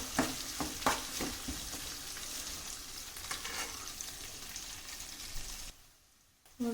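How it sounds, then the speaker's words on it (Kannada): Chopped onions fry in a pan with steady close sizzling and crackling, scattered stirring clicks, and a brief drop to near quiet near the end. "ಇವಾಗ ಕಟ್ ಮಾಡಿಟ್ಕೊಂಡಿರೋ ಈರುಳ್ಳಿ ಹಾಕ್ತಾ ಇದ್ದೀನಿ. ಇದು ಸ್ವಲ್ಪ ಟ್ರಾನ್ಸ್ಪರೆಂಟ್ ಆಗೋವರೆಗೂ ಫ್ರೈ ಆಗಬೇಕು."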